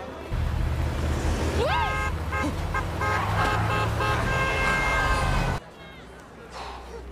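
A car horn on a road gives a couple of short toots over a loud, steady rush of traffic and engine noise, with voices also present before the sound drops off abruptly near the end.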